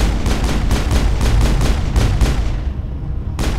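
Rapid video-game gunfire from Mass Effect, a steady burst of about a dozen booming shots that stops abruptly, followed by a final shot.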